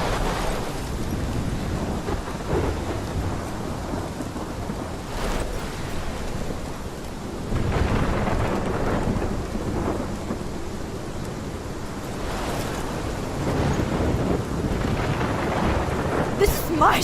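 Thunderstorm in the video game Life is Strange: steady heavy rain with rolling thunder cracks and rumbles recurring through the scene, loud and continuous, with no talking.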